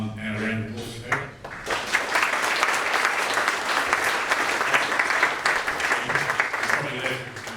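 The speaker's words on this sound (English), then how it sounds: "if you can put your hand up and a round of applause for Peter" A large audience at the GO Foundation 2020 launch breaks into dense, continuous applause. The clapping stays loud and steady throughout, with a voice briefly audible near the start.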